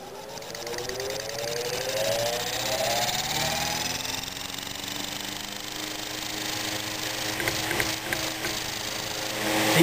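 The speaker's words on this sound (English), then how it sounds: "I think that if I keep the shaft from being pushed back into the motor housing, it'll stop making this awful noise." A 1914 Century model 15 electric motor with a worn shaft bushing hums and whines with a wavering tonal drone that rises and shifts in pitch, moderately loud and close, with no talking.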